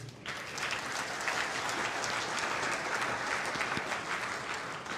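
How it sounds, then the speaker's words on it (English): A large audience at a commencement ceremony breaks into dense, steady applause for a 79-year-old speaker, a continuous wash of clapping that starts suddenly and holds at an even level without talk. "I think I deserve a bigger round of applause."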